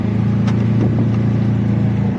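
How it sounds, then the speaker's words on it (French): A 2019 Aixam Crossline microcar under acceleration, heard from inside as a loud, steady, droning engine hum with a few faint clicks and no speech. "on va se faire un petit tour à bord de l'Exam Crossline 2019 pour tester les performances."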